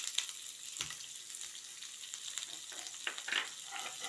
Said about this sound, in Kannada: ಈಗ ನಾನು ಈರುಳ್ಳಿ ಕರಿಬೇವನ್ನ ಹಾಕ್ಕೊಳ್ತೀನಿ